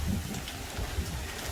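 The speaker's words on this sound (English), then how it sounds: "It's raining on us." Steady rain falls outdoors at a farm, a dense continuous patter with low rumble beneath, no voices.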